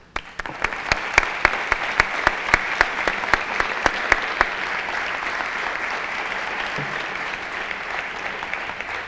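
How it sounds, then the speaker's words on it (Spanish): An audience gives a speaker a warm welcome at a citizenship course, with loud, sharp, close claps at first that blend into steady, sustained applause. "Le recibimos con un fuerte aplauso."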